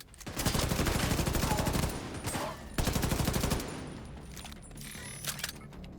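A video game turret fires long rapid bursts of automatic gunfire, two sustained volleys with a short gap between them, followed by quieter scattered shots.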